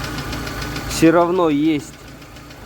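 A VAZ 2112 engine with an ignition module fault idles unevenly, with rough misfire stumbles and a knocking hum close to the microphone. Someone briefly talks over the running engine.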